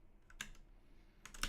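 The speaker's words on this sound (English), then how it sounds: "I'm typing whatever I want in here." Quiet keystrokes on a computer keyboard while writing code, a few scattered taps early and a quick cluster of clicks at the end, over a low room hum.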